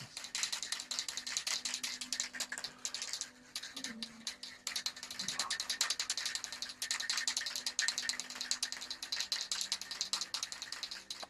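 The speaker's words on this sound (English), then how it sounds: "So there'll be a gentle rattle for a little while whilst I mix it up." A hobby supply is shaken and mixed, likely a paint pot with an agitator ball, producing a steady, rhythmic rattle that carries on close by for several seconds with only a brief pause.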